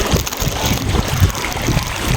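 A boat cruises on a river with steady wash and splashing water under rumbling engine and wind buffeting the microphone, continuous and close throughout.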